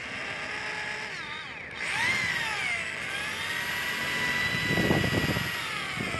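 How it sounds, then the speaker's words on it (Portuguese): Polishing machine buffing a freshly painted motorcycle fairing, a steady mid-loud whirring drone that rises in pitch as it spins up, with a rougher burst of buffing contact near the end and no talk. "Agora eu vou fazer o polimento."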